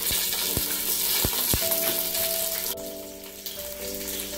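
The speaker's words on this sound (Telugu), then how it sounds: "ओक कप्पु पेद्द उल्लिपाय मुक्कलु వేసి బాగా వేయించుకోవాలి" Onions frying in a pan for chicken pulav: a soft crackling sizzle with a few sharp knocks of a utensil early on, followed by a steady tone hum, no voices.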